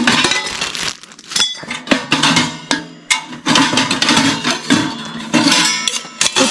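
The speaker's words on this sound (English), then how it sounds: "This is the glass for the front part of your door, and then all the piping is stored inside." Glass door panel and metal parts of a hot tent stove handled, a busy run of close clinks, clatters and knocks with brief pauses between bursts.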